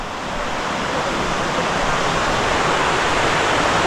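Water crashes down a waterfall at Sonalpada dam near Karjat, a loud, dense and steady roar like broadband rushing noise that fills the whole clip without pause, close at hand and unbroken by any voices.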